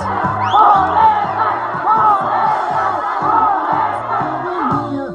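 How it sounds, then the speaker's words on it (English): A large crowd of people denied a vote chants for ballots in unison, a loud rhythmic call repeated over and over with overlapping shouting voices. "This is the sound of people chanting for ballots after being told they would not be able to vote."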